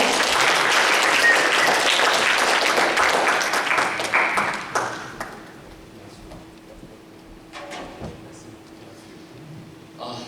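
A crowd applauds loudly and steadily during a church youth service, then the clapping fades and thins out into scattered claps and quiet room noise.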